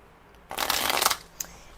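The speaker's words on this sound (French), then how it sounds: "J'en prends une dernière petite carte pour vous" A tarot deck being shuffled: one quick riffling burst lasting under a second, close and crisp, followed by a single light card snap, with no speech.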